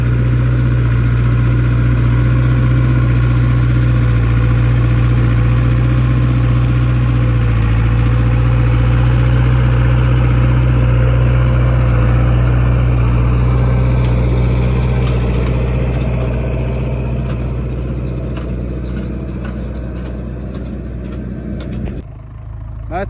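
A farm tractor pulling a hay baler in a field, its engine droning steadily and fairly close with a deep, even rumble, easing back slightly toward the end.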